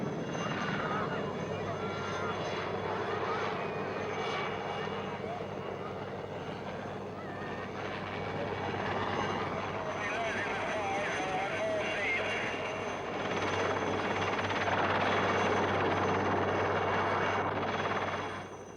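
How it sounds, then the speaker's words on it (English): A helicopter lifts off for a film shoot beside a shoreline, its engine and rotor roar steady and fairly loud throughout, with people talking and shouting over it. "The helicopter will take off."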